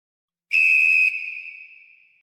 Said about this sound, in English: Talk about it after the whistle.